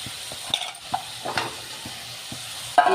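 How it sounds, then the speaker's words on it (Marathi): Pieces of raw banana go into spice masala frying in a pan for a vegetable dish, giving a soft steady sizzle with light stirring taps and scrapes close by and a sharper burst near the end. "आता हे केळं यामध्ये टाकून द्यायचं आहे"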